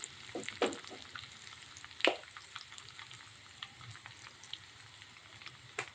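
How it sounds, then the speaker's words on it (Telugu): Garlic and asafoetida fry in hot oil with a faint, steady sizzle and scattered small pops and crackles. A couple of sharper ticks stand out, and no voices are heard. "వెల్లుల్లి ఫ్రై అయిపోయినాయి కదా"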